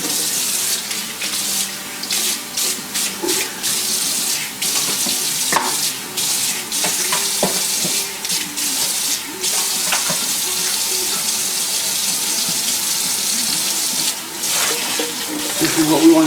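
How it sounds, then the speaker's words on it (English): Tap water runs steadily into a kitchen sink as squares of pork skin are rinsed, a continuous splashing flow with occasional clatters and handling noises throughout. "rinse them in water."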